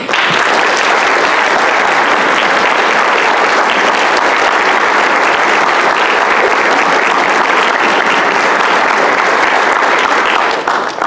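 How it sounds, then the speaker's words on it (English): At the 2016 Pickens County Teacher of the Year awards banquet, a large audience gives the honored teachers a loud, sustained round of applause that fills the hall steadily for over ten seconds with no talking. "give them a big round of applause"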